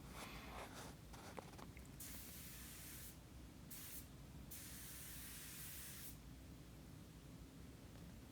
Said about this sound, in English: I've put my gun slightly farther away and the application is a lot quicker, which gives you a nice light coat of material